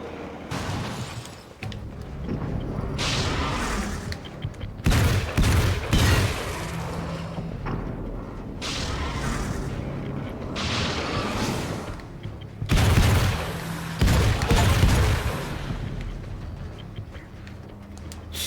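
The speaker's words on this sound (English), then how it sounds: "It's a fucking Tommy gun," A Tommy gun in Alan Wake's American Nightmare fires in loud rapid bursts, several long rattling volleys separated by short pauses, close and punchy over a low game backdrop.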